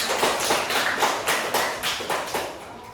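A class of junior high students claps for a classmate in a school lesson, with several loose, overlapping bursts of hand claps close by in an indoor room and no talking.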